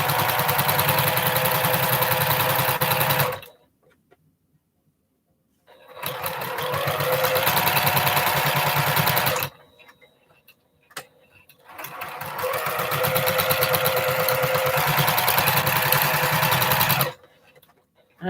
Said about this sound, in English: I have a guide mark on my machine here to try to keep my seam allowance at 1/4 of inch.